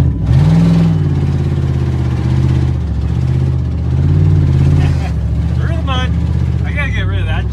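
A loud straight-piped engine on a cheap spring-jumper car drives a quick lap, droning steadily with rising and falling revs and brief surges, close up and continuous throughout.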